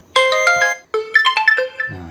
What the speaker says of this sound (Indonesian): Itu untuk nada dering panggilan